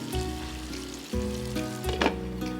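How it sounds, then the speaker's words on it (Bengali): Spice paste fries in a covered pan for a Bengali rohu fish head murighonto with mung dal, making a soft, steady sizzle with faint crackles under a continuous low hum, quiet and close. "মশলাটা একটু ঢেকে ভেজে নিতে হবে।"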